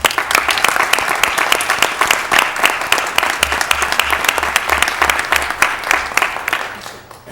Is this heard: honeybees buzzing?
no